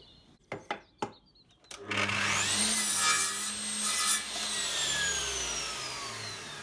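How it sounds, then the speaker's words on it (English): A mitre saw is switched on after a few knocks and spins up to a loud whine, then cuts through a piece of 2x2 wood with a rising grinding rasp before winding down, close and alone. "I've set the Mitre Saw up with a little bit of 2x2, so I'll just plug this in"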